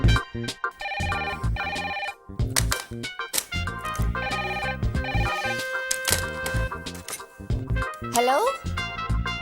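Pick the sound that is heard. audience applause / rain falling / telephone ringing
telephone ringing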